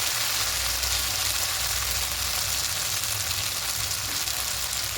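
Spice paste with bay leaf paste and salt being sautéed in a pan for a rohu fish dish, a steady dense sizzle and frying crackle throughout, with no talking.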